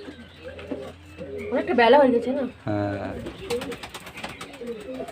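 A pigeon drinking water from a person's hand gives soft, low coos close by, mostly beneath two people chatting casually throughout.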